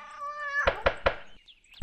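A cartoonish cat meows once in the video game That Brat, a short drawn-out cry followed by three sharp knocks, a pause, then another knock.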